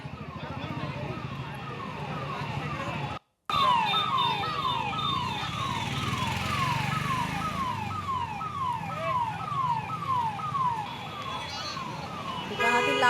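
A fire brigade vehicle's siren wails in rapid repeating sweeps at a furniture shop fire, loud and continuous after a brief cut, with a reporter talking over it and street noise below.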